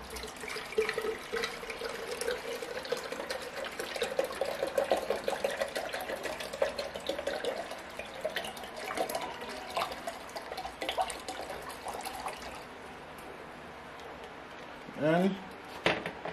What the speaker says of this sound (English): pour in our cider vinegar.